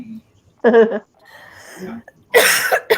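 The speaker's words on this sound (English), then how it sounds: "I still have that freaking cough that it's just lingering" Two short, harsh coughs break out close by, separated by a second of quieter breathy noise.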